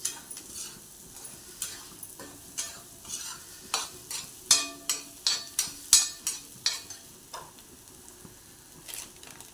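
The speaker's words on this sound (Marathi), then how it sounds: "ते चांगला मसाला आपण परतून घेतलाय." Spice masala for chana masala sautéing in a pan, soft frying sizzle under a series of sharp scraping and tapping strokes of a spoon against the pan, most dense in the middle, with no talking.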